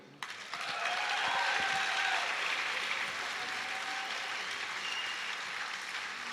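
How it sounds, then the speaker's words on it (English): An audience applauds at a live late-night event at the Roundhouse, a dense and sustained burst of clapping that starts abruptly and keeps going steadily throughout with no talk over it. "Can we give Penny another round of applause, please?"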